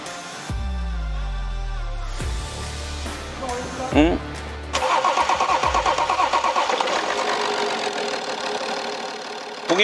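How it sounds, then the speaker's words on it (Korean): A BMW X3 engine, after repair for rough running, cranks and catches, then settles into a steady mid-pitched idle, close and loud, with people talking briefly over it. "엔진 소리가 완전 부드러워"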